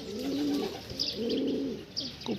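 Pigeons cooing close by in a backyard loft, soft low rolling coos repeating over a faint background hum, with a couple of brief higher chirps.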